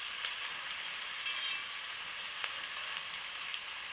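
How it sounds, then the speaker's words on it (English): Onion sautés in a pan, giving a steady close sizzle with a few soft clicks of stirring over the frying hiss. "Cook it until the onion becomes translucent and very aromatic."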